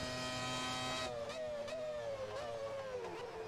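A 1998-era Formula 1 car in a racing video game, its high-pitched V10 engine screaming steadily, then dropping and climbing again through quick gear changes, loud and continuous with no talking.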